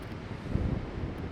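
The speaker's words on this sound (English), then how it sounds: "Really windy." Low, rumbling wind buffets the microphone in a steady gust, dull and boomy, with no voices.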